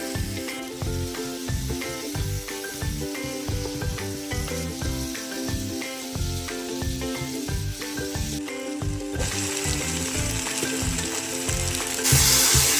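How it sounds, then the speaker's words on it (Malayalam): Two tomatoes worked into frying duck masala for a Kerala duck stew, with rhythmic, repeated stirring strokes over a constant moderate sizzle and a brighter hiss rising near the end. "അതുകൂടെ ചേർത്ത് നന്നായിട്ട് ഇളക്കി കൊടുക്കുക."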